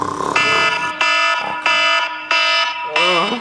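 An alarm clock rings loudly at 4 a.m., five evenly spaced, harsh electronic tone bursts repeating in a steady rhythm.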